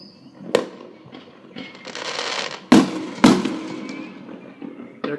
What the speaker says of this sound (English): We're definitely doing a good job on the firework draws this year.